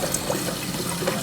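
Water fills a toilet flush tank whose lever fails to shut it off once the level is reached, a steady, close rushing and trickling stream running without pause.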